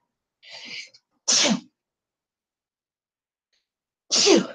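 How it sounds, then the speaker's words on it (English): A sharp inhaled gasp followed by a loud sneeze, then a pause of silence and a second forceful sneeze, close and alone. "Hang on one sec, I gotta sneeze."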